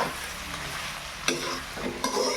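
Local chicken curry with black pepper sizzles steadily in a wok while a spatula stirs it, with two sharper scraping strokes standing out toward the end.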